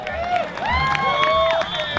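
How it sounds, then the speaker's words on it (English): Wedding guests at a reception clap and cheer for the maid of honor, a full crowd of applause with whoops rising over it and an amplified voice speaking across the top. "And keep that applause going"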